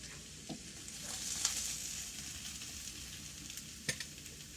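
Hamburger and potatoes frying in a skillet, a steady close hiss and crackle of hot oil that keeps on without a break, with a few soft knocks of a utensil against the pan and no talk.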